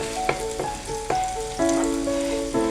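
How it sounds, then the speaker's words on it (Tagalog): Garlic and onion sautéing in a pan for Filipino tortang talong, a loud close sizzle with tonal hiss and bursts as pieces are stirred, no voices. "Igisa natin to. Yung bawang natin."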